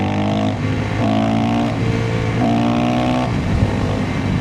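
A Yamaha WR400F supermoto engine revs in repeated bursts, about three throttle blips rising and falling over a steady idle, close and loud, with the carburettors giving a gurgling, burbling edge.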